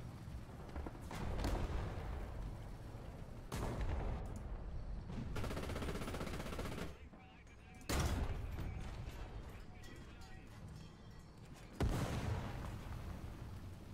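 Artillery fire in the War Thunder ground battle game, heavy booming blasts arriving in several separate bursts with rumbling gunfire and mechanical noise between them, loud and close.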